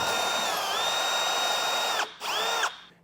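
A power drill runs at high speed through a Ford F-150 truck bed rail for a roof rack mount, a loud, close whine that dips slightly, stops briefly, then spins up again and winds down.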